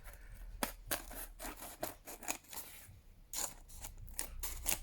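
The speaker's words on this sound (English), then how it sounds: "I'm going for the scissors" Scissors snip repeatedly through a thin plastic sheet, crisp crunching cuts coming in an uneven rhythm, close by and with no talking.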